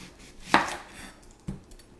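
A knife cuts through a red onion on a board with two quiet, crisp chops about a second apart, with no background noise.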